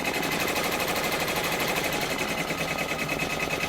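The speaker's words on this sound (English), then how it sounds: "it is going to do all the stitching for the entire block" A multi-needle embroidery machine stitches a quilt block, giving a fast, steady mechanical rattle that runs continuously and loudly close by.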